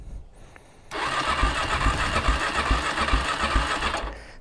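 An ATV or dirt bike engine starting up: a short cranking attempt, then the motor catches and runs at a steady, buzzy rough idle for several seconds before cutting off, close and with no talk.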